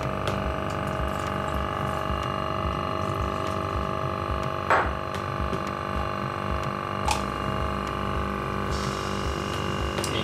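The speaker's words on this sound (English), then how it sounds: "I'll just pour some water through these." Water is poured through a vacuum filter, a soft trickle under a constant pump hum, with a couple of brief splashy bursts.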